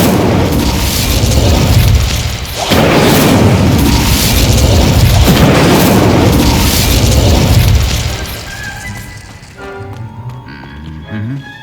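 Incendio fire spell cast in Hogwarts Legacy on Xbox Series S: a loud, dense roaring blast rumbles steadily for about eight seconds with a brief dip near the start, then fades out beneath softer tonal game sounds.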